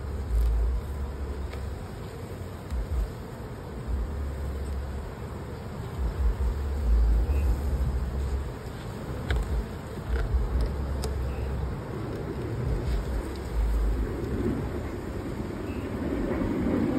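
Honey bees hum around an open hive while honey supers are added to a single brood chamber, a steady, moderately close drone that runs throughout with no talking.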